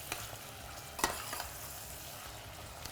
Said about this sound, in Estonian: Segame läbi.